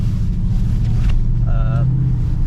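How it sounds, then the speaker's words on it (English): A 2019 Ford Mustang GT driving past outside, heard as a steady, loud low engine rumble with wind buffeting the microphone and a brief higher whine partway through. "that was just a little drive-by"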